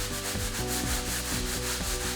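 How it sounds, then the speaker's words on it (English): A deck brush scrubs hard across a Polytek floor, its bristles rasping in quick back-and-forth strokes, loud and close with a rhythmic pulse and no talking. "I'm applying a pretty harsh pressure on the deck brush to get a really good scrub."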